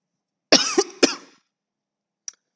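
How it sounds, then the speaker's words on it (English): A person coughs two or three times in quick succession, close and fairly loud, followed by a brief faint sound after a pause, with no other talk. "I'm coughing. That's not good."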